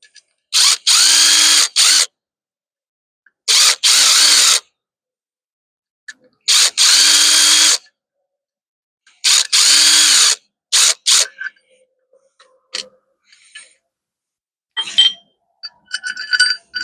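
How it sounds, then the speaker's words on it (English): A power drill backs screws out of an enclosed trailer in loud, close whirring bursts of about a second each, separated by silence, followed by quieter scattered metallic clinks. "the first thing that we want to do is we got to remove these bolts"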